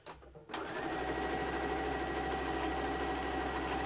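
A sewing machine stitches a quick mug mat at stitch length 3, starting after a brief pause and then running as a steady, continuous close-up whir with a fast mechanical rhythm and a low motor hum.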